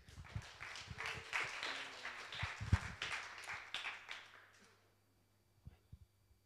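An audience at a French talk on Generation Y and luxury applauds, a busy wash of clapping near and loud for several seconds that thins out and stops, followed by a few faint scattered sounds.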